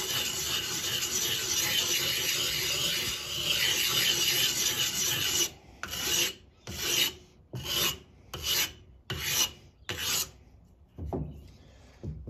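Garden shears being sharpened on an oiled sharpening stone: a steady continuous rasp for about five seconds, then a series of separate rhythmic strokes, close and fairly loud with no talking.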